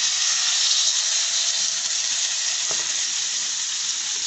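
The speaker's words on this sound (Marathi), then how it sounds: "चला मग आता पापलेट मासा आपण पॅन मध्ये सोडून घेऊया।" Pomfret fish frying in hot oil in a pan, a steady, loud, broadband sizzle with hissing steam that holds evenly throughout, no voices.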